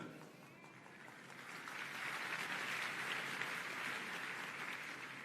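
Audience applause at an interview event with Sadhguru and Yogi Adityanath: a steady, fairly faint wash of many hands clapping that swells slightly and holds throughout, with no talk.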